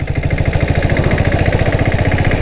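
A 7.5 HP turbo diesel Bullet motorcycle engine runs with a loud, steady, rapid chugging thump, close up and continuous, without talk.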